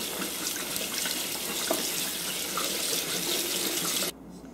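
Tap water runs steadily into a sink while asparagus is washed, a close, constant splashing rush that continues for about four seconds before the flow is shut off.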